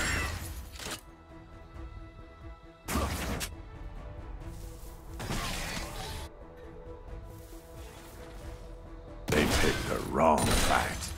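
Shotgun blasts from Graves in the mobile game Wild Rift, several sharp, loud booming reports spaced a few seconds apart, with game effects and a character voice in between.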